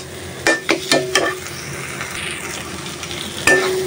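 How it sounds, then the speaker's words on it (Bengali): Chepa shutki masala being sautéed in a pan, several quick loud spoon knocks and scrapes in a cluster early, then a quieter sizzling stretch before one last sharp clink, close up and without voices. "মশলাটা ভালোভাবে কষানো হোক"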